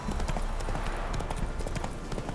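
Horse hooves clip-clop steadily at a walking pace through the game world of The Witcher 3, close and continuous, with faint ambient sound underneath.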